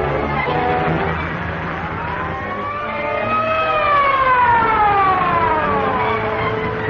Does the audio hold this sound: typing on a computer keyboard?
no